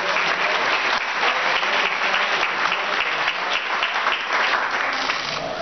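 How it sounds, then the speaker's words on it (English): Audience at the White House Conference on Aging applauding, a dense, even wash of clapping held loud and steady throughout without letting up. "Please give Vicki a big round of applause."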